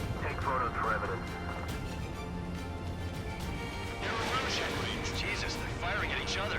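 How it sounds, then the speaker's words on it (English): Gunfire and artillery rattle in Ace Combat 7 as a scatter of cracks and muffled booms. Voices talk over the fighting, and the impacts grow denser and louder toward the end. "Jesus, they're firing at each other."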